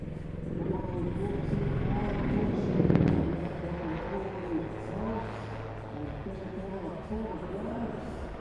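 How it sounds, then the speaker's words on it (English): Helicopter diving and pulling up at a night airshow display with flares, a low rotor and engine rumble swelling around the middle of the pass, while a commentator talks over it throughout. "The helicopter diving down, it's going to pitch up into an on-crowd bunt"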